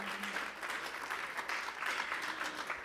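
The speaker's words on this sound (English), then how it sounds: "I'll take the round of applause." An audience at an evening event at the Schomburg Center for Research in Black Culture in New York applauds, a soft, even wash of clapping that sounds somewhat distant and continues throughout.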